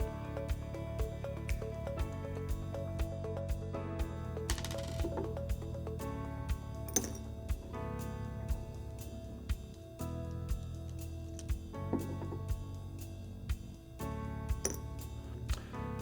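Small metal parts of a Viruserv triple nozzle, including tips and piston pins, dropped into a deliming solution, giving a string of light, quiet clinks and taps spread at regular intervals.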